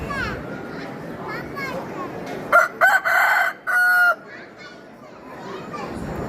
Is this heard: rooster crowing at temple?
yes